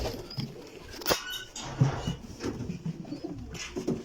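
Soft, repeated cooing comes from breeder's pigeons nearby, mixed with scattered scratching and light pattering sounds, and no voices are heard.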